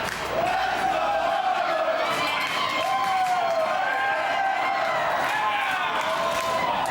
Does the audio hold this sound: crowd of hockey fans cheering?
yes